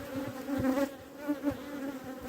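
Honeybees buzzing close by at a hive, a droning hum that swells and fades as they move around, with no talking.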